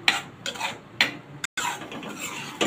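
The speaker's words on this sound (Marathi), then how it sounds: "पेस्ट आपल्याला तेलावर चांगली परतायची आहे." Onion-tomato paste being sautéed in oil in a pan over medium heat, with repeated scraping and stirring strokes against the pan and a low sizzle underneath, close and moderately loud, with no talking.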